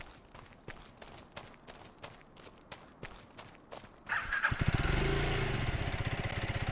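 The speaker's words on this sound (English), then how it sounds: "let's hop on our dirt bike" Footsteps walking steadily on the ground in Farming Simulator 25, then a dirt bike engine starts up and settles into a loud, close, throbbing idle.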